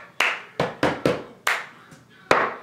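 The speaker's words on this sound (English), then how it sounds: "and then you clap again right after that" Sharp single hand claps in a cup song routine, about seven distinct claps in an irregular rhythm, close and crisp, with cup taps mixed in.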